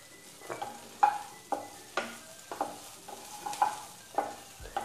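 Chopped green chillies and cumin frying in a little oil in a pan, a soft sizzle under repeated rhythmic stirring scrapes about every half second, close and fairly quiet.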